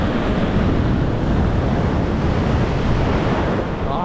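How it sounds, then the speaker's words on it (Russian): Continuous roar of surf crashing and churning on a rocky beach in Turkey in December, loud and close, with wind buffeting the microphone throughout and no voices. "Ух, смотрите, какие волны"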